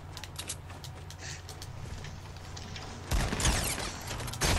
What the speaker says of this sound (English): Shooting grenades.